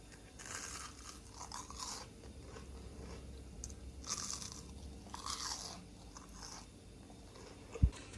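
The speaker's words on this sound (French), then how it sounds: "Je sais qu'il y en a qui n'aiment pas les bruits de bouche" Close crunchy bites and chewing of light, crisp food, irregular crackling mouth noises at moderate volume with one sharp snap near the end, no speech.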